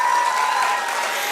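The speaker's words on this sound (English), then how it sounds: "Give them a huge round of applause" Audience at a Losar celebration applauding after an energetic stage performance, dense continuous clapping from a large crowd, loud and even throughout.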